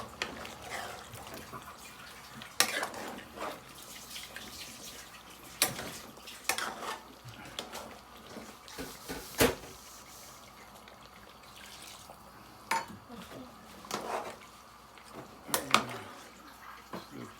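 Water is poured into a pot of mutton and okra curry in bursts of faint trickling and splashing, with occasional clinks of the pot, all heard quietly against a soft background.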